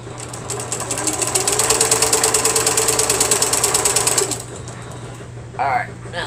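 A sewing machine stitches steadily, up close, in a fast, even mechanical clatter for about four seconds before stopping, with a voice heard over it.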